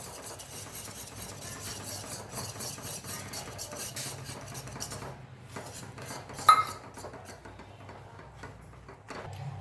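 Rice flour is stirred slowly into water in a pan over a low flame, giving a soft, continuous scraping and rubbing of a utensil against the pan, with one sharper metallic clink midway.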